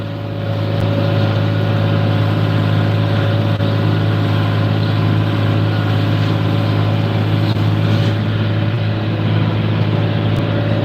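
A Versatile farm tractor's diesel engine runs at a steady idle, a loud, continuous low droning hum with constant level, close by and alone, with no talk.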